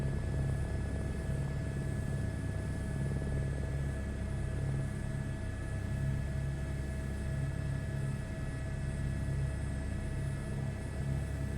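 Aircraft engine taking off in Microsoft Flight Simulator 2024, a steady droning rumble with a constant whine, unchanging and without speech.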